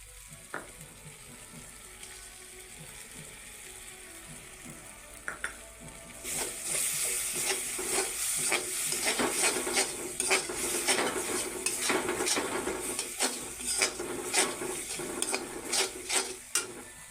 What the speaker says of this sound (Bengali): আমার মশলা ভাজা হইয়া গেছে মশলার থেকে তেল ছাড়া শুরু হইয়া গেছে এবার আমি দিয়া দিব দই